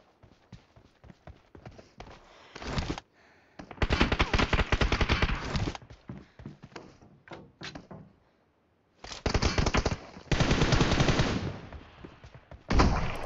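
Gunfire in the video game PUBG Mobile, scattered single shots building into long, loud automatic bursts separated by short gaps of near silence.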